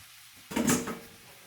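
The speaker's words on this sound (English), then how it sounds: "It's smoking hot, so my pork's gonna go in there." Pork hits a smoking-hot Instant Pot on saute for browning, giving a sudden loud sizzling burst that quickly settles into a steady, softer hiss close by.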